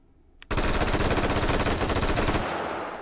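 An M16 rifle fitted with a muzzle brake fires full-auto in the H3VR virtual reality game: one sudden, loud, rapid burst of shots that runs for over two seconds and then trails off.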